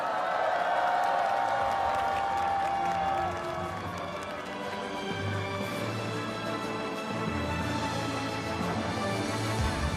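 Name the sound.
crowd applause and cheering for Black Eagles flyover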